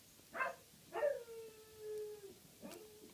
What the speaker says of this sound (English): my dog moans like this because they don't really like my company